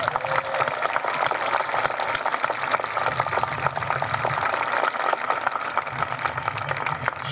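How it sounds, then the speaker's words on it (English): Graduation audience applauding, a dense wash of clapping from a large crowd that holds steady and loud throughout. "let's give ourselves a round of applause."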